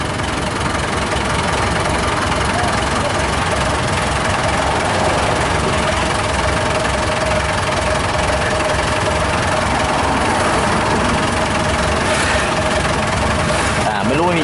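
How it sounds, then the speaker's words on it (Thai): An old-style songthaew pig-pen truck in Sukhothai runs with a loud, continuous rough engine drone and knocking vibration, close and unbroken. "ยังมีรถสองแถวแบบเก่าๆแบบนี้อยู่"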